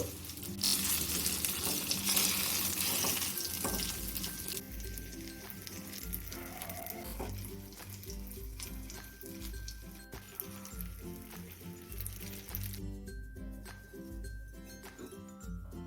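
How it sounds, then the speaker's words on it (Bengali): Brinjal slices frying in oil in a pan, a continuous soft sizzle and crackle running throughout at a low level, with occasional faint clinks and movement. "বাকি বেগুনগুলোও আমি দুপিট লাল করে ভেজে নিলাম"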